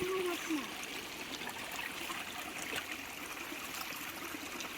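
Water trickles continuously through a Konkan village channel or stream, a soft, steady babble heard at moderate distance with a brief faint voice-like sound near the start.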